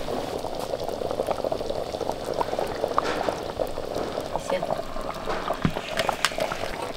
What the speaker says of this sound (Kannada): ಮಣ್ಣಿನ ಪಾತ್ರದಲ್ಲಿ ಮಾಡಿದ್ರೆ ಇಳಿಸಿಟ್ಟ ಮೇಲೆ ಕೂಡ ಕುದಿತಾ ಇರ್ತದೆ ನೋಡಿ